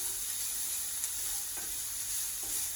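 Onions sizzle in a pan with leftover marinade, a steady close-up hiss and crackle with faint stirring scrapes here and there, no voices.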